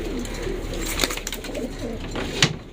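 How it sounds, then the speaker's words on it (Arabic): Rooftop loft pigeons coo softly in low, rolling murmurs over a couple of seconds, with a brief sharper flutter or click near the end, close and fairly quiet. "يلا زيد تعالى يلا عشان بقيت الحمام يحبس"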